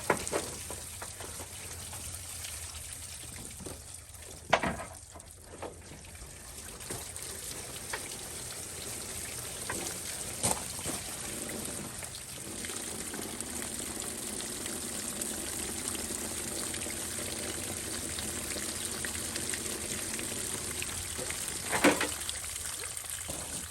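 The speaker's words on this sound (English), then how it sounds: "I'll dump the water and let you look at the water coming out of down here" Water drains from under a truck's wheel arch after washing the underside, a steady trickling patter with occasional louder drips, fairly close and continuous.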